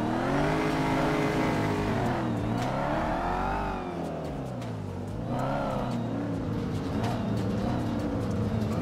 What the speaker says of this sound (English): That Benz is so loud, bro.